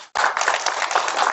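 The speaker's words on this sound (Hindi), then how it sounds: "जोरदार तालियां।" Audience claps loudly at a carrom prize distribution ceremony, a dense burst of applause that starts abruptly and holds steady, close and energetic.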